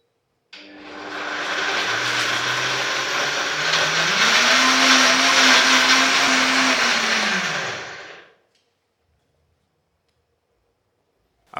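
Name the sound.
blender blending red peas into a paste for soup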